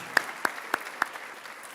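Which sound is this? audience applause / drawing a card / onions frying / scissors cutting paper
audience applause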